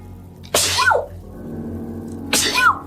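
Two sharp sneezes from a person, close and loud, each a sudden burst tailing into a short vocal fall, spaced a couple of seconds apart with quiet room noise between.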